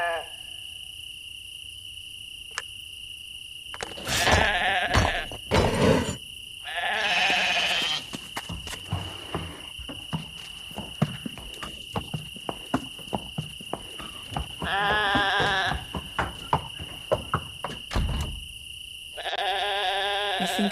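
Sheep bleat in the Lost Lands 9 video game over a steady insect-like chirring ambience. Several separate bleats rise out of the background at intervals, moderately loud and fairly close.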